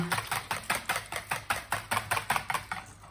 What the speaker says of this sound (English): So now let's whisk this together